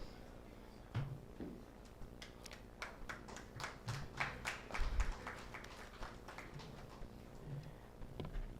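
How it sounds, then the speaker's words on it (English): Scattered, fairly faint clapping from a conference audience at a national conference on critical minerals exploration, with separate claps spread unevenly across the stretch rather than building into a dense ovation. "I expect again a big round of applause for Bibas Sen sir."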